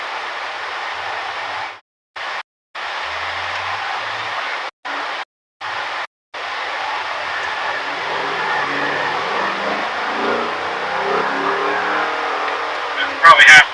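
2008 Pontiac G8 GT engine accelerating at half throttle, a steady engine roar with a few brief cuts, then rising and building toward the end.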